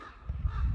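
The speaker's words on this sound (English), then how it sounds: "Listen, you can just hear that bird" A bird squawks briefly from trees in a quiet forest at the Treblinka extermination camp site, a single short, fairly distant call over low ambient rumble.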